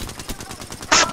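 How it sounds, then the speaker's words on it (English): Rapid gunfire from the video game Apex Legends, a quick burst of evenly spaced shots capped by one louder crack, short and close. "You guys shooting at someone though?"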